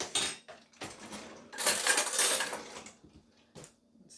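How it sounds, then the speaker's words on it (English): A metal spoon clinks against dishes as it is picked up in a kitchen while low-carb double chocolate chip cookie dough is being made, with several short bright clatters and a busier burst of scraping and clinking midway. "let me get a different spoon"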